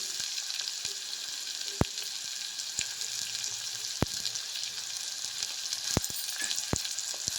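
Onions frying in oil with leafy greens, a steady close sizzle with a bright hissing wash and occasional sharp pops and crackles, no voices.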